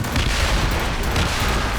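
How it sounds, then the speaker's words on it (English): Cannon fire in Assassin's Creed Rogue during a naval battle, heard as a dense, loud volley of overlapping booms and blasts rumbling continuously with no pause. "Cannon ready! Enemy Fire!"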